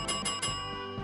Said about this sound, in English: ringing a bell